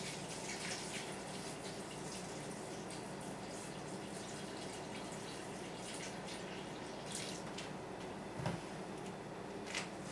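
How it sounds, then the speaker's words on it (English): Water from a gallon jug runs steadily into a wine fermenter, a continuous soft splashing wash with a couple of small drips near the end and no speech. "this is a gallon of water, and I'm not going to add all of it right now, but I'm just going to add some of it."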